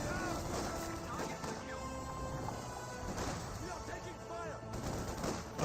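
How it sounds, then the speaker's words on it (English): Grenade blasts and gunfire in Company of Heroes 2 battle between Volksgrenadiers and conscripts, scattered pops and bursts under a commentator talking throughout. "The same grenade has been thrown."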